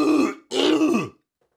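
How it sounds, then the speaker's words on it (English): A person clears their throat twice in quick succession, close and loud, followed by silence. "I just got to clear my throat."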